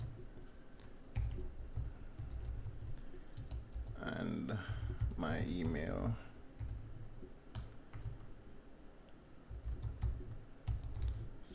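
Steady, quiet typing on a computer keyboard as a git config command and an email address are entered. The clicks continue under a brief stretch of a person talking.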